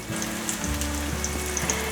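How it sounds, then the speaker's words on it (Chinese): Pumpkin-shred patties sizzle gently in hot oil in a pan, a continuous close-up crackle with scattered small pops and no voices. "先让它慢慢煎，待会再来翻面"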